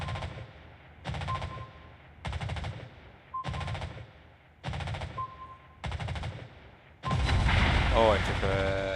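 Naval gunfire from warships in the World of Warships video game: five loud, evenly spaced salvos roughly a second apart, followed by a sustained, dense barrage of heavy firing.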